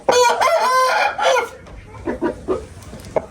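A Gerakl breed rooster from Toraqo'rg'on lets out one loud, close crow, then makes a few softer clucks and short calls.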